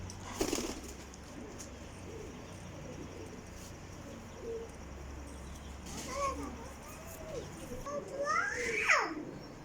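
Soft pigeon coos murmur through a quiet outdoor space, with a brief burst of noise early and some fluttering toward the end.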